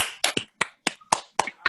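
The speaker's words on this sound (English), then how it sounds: "can everyone please clap and thank our 2020 scholars?" Scattered handclaps from a small audience at a 2020 scholarship reception, sharp, separate and uneven, about eight distinct claps with short gaps between them.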